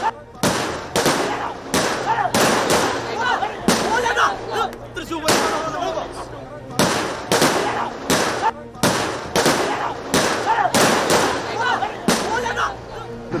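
Rapid, continuous volleys of loud fireworks explosions from a festival display at Thiruvambady and Paramekkavu, bursting one after another with barely a pause, close and powerful, filling the air with repeated sharp blasts.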